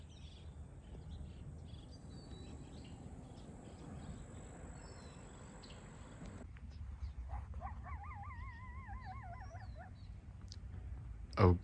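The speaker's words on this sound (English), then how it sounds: "that's either a dog or a coyote" In the Arizona desert of the Verde Valley during monsoon season, a distant dog or coyote lets out a wavering, whiny howl after several seconds of low outdoor rumble, ending with a sudden thump.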